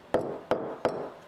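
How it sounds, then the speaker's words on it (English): Three quick, sharp taps about a third of a second apart, each a short ringing knock, as masonry wall anchors are driven into a brick fireplace by hand. "now it comes with these wall anchors, masonry wall anchors. So just tap it in like that"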